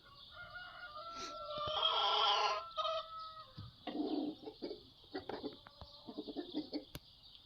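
Wyandotte chickens cluck and squawk nearby in a village coop, with one loud drawn-out call followed by a series of short, irregular clucks over a faint steady hum.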